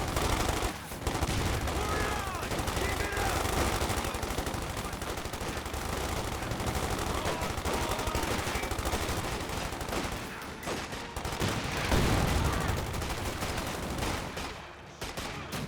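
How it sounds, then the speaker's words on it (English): Sustained MG-34 machine gun fire in a Company of Heroes 2 battle against paratroopers, dense continuous bursts and explosions filling the whole stretch at loud, steady level, with faint voice underneath. "MC-34 firing away against the paratroopers"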